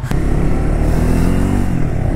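A Triumph Scrambler 400X motorcycle exhaust rumbles loudly and close, a deep steady engine burble with a brief click near the start.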